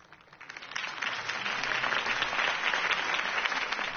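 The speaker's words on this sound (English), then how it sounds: "could have heard that applause" Steady applause from a large crowd after a campaign speech in a Batman film, rising quickly in the first second and holding at a full, dense clatter of many hands throughout.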